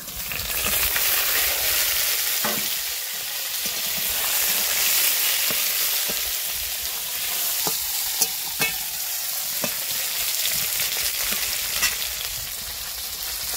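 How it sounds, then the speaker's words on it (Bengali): Small and large pond fish going into a pan of sour gravy, with steady close frying sizzle and stirring scrapes throughout, broken by a few sharp clinks. "মাছগুলো এতে দিয়ে দেবো।"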